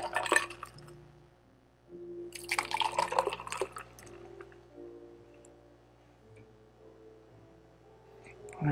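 A mocktail is poured into a double rocks glass, heard as soft splashing and trickling liquid with a few glassy clinks. The pouring is close and fairly quiet, with brief quiet gaps between splashes.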